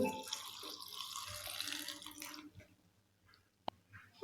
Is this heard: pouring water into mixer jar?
yes